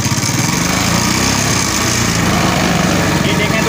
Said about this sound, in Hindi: ये देखें दोस्तों मोटर बाइक स्टार्ट हो गई अच्छे से